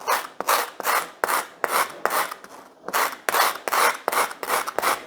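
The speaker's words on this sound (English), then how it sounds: "What you do on the pumice stone is you do wet it, which I did, and then you are going to rub on there to get that out." Wet pumice stone scrubbed against hard calcium buildup, a loud rasping scour repeated in steady back-and-forth strokes, about two per second, close up with no talk.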